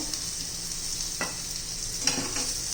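Spicy garlic eggplant slices sizzle in oil in a pan, a steady close hiss with a few soft scraping clicks as the slices are turned.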